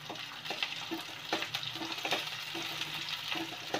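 Chopped onions and green chillies fry in a pan, a soft, steady sizzle with faint crackle and a few light stirring clinks, fairly quiet and close, with no voices.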